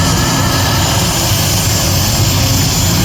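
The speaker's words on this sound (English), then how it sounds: "Brad Rudolph is the only turbine-powered tractor in Canada." Turbine-powered pulling tractor running at a tractor pull, a loud, steady roaring whine with heavy low rumble that fills the whole stretch without easing.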